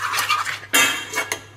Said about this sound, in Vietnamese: cứ thế mà đảo nó lên, với mỡ với dầu rán với lại mì trứng